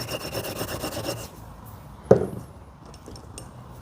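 Rough rasping strokes of a file cleaning burrs from a metal part in a garage working on a 1969 Barracuda, a rhythmic scrape followed by a single sharp clink and quieter handling.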